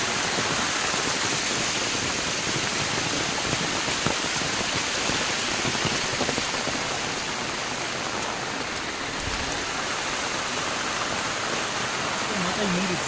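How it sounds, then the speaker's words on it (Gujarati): Heavy rain at Uparkot Fort in Junagadh with gurgling water flowing nearby, a loud, dense, continuous wash of noise close by. "જોવો ખળખળતું પાણી હાલે હો."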